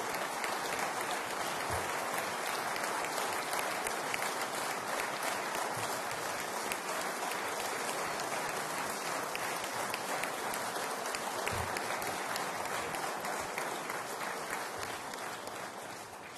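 Sustained applause from an audience at the close of a formal central bank address, a dense steady clatter of many hands filling the room without a break, loud and even throughout.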